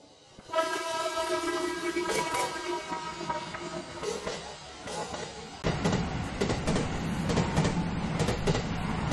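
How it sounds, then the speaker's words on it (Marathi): The narrow-gauge Matheran hill train in Maharashtra rumbles past at close range, its horn sounding in sustained tones before the steady clatter of wheels and carriages grows louder. "आम्हाला आता ट्रेन दिसलेली आहे."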